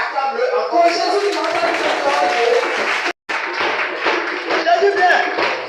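Church congregation clapping and acclaiming during a French-language worship service, a dense continuous wash of applause and cheering voices at steady loudness, with a brief silent cut partway through before the clapping resumes.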